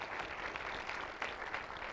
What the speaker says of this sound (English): Let's give all of our honorees here today a big round of applause.